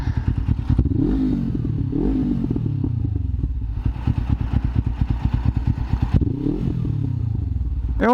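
A motorcycle engine revs repeatedly in close, loud bursts, rising and falling in pitch between steady low idling pulses, with a final sharp rev at the end.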